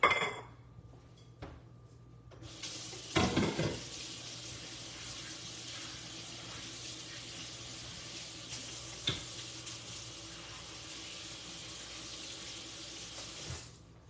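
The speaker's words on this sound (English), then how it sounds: "This other oil, I'm gonna just turn it down. It's really hot, as you can probably tell." Very hot oil sizzles in a pan, a steady broad hiss that starts after a brief pause and holds evenly with a few soft clatters, fairly quiet and without talk.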